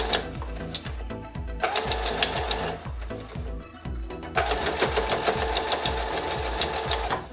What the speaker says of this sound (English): Here I'm just sewing everything together